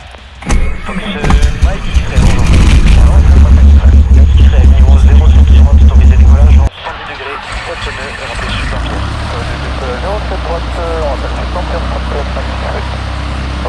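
A light training aircraft's piston engine starts and settles into a loud, steady drone with strong low rumble, then drops to a lower idle about halfway through, heard from inside the cabin during an introductory flight.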